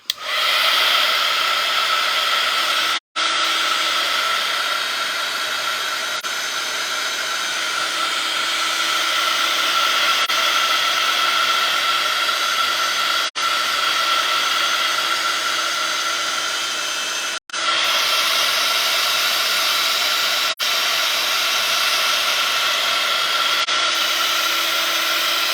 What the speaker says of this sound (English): I'm just going to get my heat tool out and I'm just going to give this a little bit of a dry.